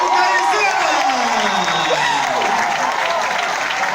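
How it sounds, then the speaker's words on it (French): A crowd applauds loudly and continuously, with cheering and whoops over sustained clapping and excited voices throughout. "Applaudissez encore."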